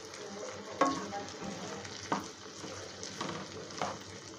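Corn kernels being stirred in a pan for crispy spicy corn, with a soft sizzle and a few distinct scraping strokes spaced about a second apart, fairly quiet and with no voices.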